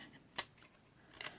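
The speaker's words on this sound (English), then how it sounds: "I'm just going to take my scissors and run it right across" Scissors snip through cardstock up close: a crisp, sharp cut near the start and a quicker double snip about a second later, faint overall and with no talking.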